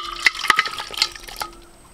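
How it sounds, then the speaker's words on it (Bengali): Young goat meat goes into a ghee-greased pot for biryani and is stirred, giving a few sharp spoon-on-pot scrapes and clinks over a soft sizzle, close and fairly quiet, with no talking. "পুরো মাংসটা আমি হাঁড়ির মধ্যে ঢেলে দিচ্ছি।"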